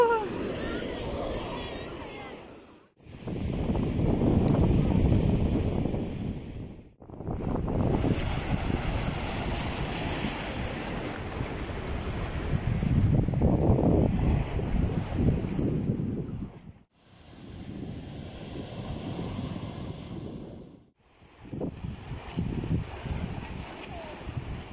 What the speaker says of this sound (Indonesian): Suara ombaknya luar biasa guys.